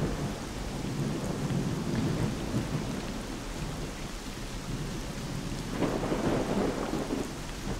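Deep rolling thunder rumbles through a rainy storm in the S.T.A.L.K.E.R. Clear Sky game, a continuous heavy roar over steady rainfall that swells again near the end.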